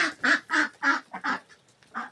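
Domestic ducks kept as farm birds quack loudly and close by, a run of about eight raspy calls in quick, uneven rhythm with short gaps, no voices.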